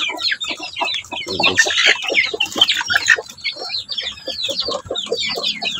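Chickens kept in a pen make a busy stream of close clucks and squawks. Someone speaks briefly over them.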